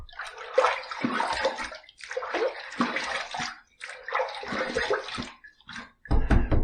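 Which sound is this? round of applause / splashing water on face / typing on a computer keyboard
splashing water on face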